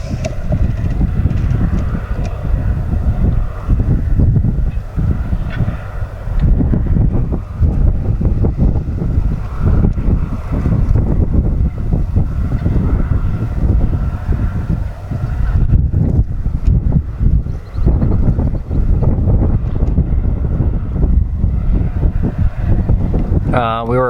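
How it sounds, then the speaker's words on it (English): Heavy wind buffets the microphone throughout a farm field at planting time, a constant rumbling roar, with a person talking underneath and machinery faintly in the background. "It's kind of windy, so I don't know how much I'm gonna get for audio."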